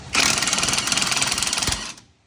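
A Ryobi cordless impact wrench rattles off a rusty strut nut on a 2006-2012 Ford Fusion, one loud continuous hammering burst of about two seconds that stops abruptly.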